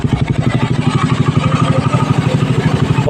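A motorcycle fitted with a power pipe exhaust runs near and loud, its engine putting out a rapid, rhythmic, throbbing idle that stays steady throughout.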